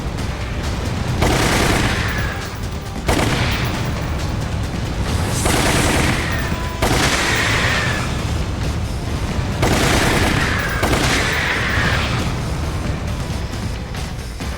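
Gunfire in the Wii game Resident Evil: The Umbrella Chronicles, loud and close, coming in rapid sustained bursts with short gaps between volleys.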